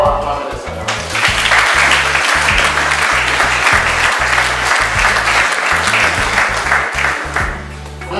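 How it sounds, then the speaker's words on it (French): A congregation at a funeral tribute service applauds to acclaim the Lord, with dense, continuous clapping held over steady music for several seconds. "Est-ce que nous pouvons acclamer le Seigneur?"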